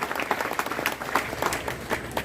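Dense crowd applause at a Hindi political rally speech, with many hands clapping in a continuous patter for about two seconds, moderately loud and without talk over it.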